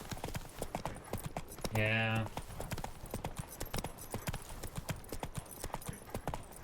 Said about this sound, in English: This horse isn't going any faster.